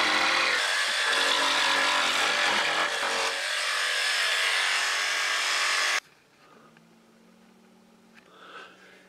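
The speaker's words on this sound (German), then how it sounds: "Das drehen wir wieder um und schneiden das jetzt hier mit der Stichsäge ein." A jigsaw cutting through wood, a loud buzzing saw run for about six seconds that stops abruptly, leaving quiet room noise with faint handling sounds.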